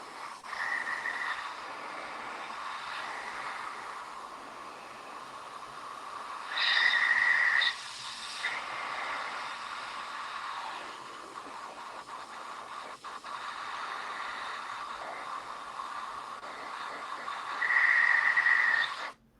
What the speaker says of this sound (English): So you're drying it now with the airbrush as well, ALEJO?